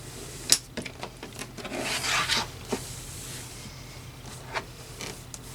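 Quilt fabric is trimmed along a ruler for a tulip quilt block: soft rubbing and cutting strokes, close and fairly quiet, with a few brief taps and one longer swish in the middle, and no one speaking.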